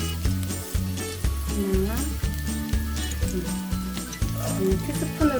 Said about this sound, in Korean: 마늘이 약간 노릇노릇해질 때까지 저어주세요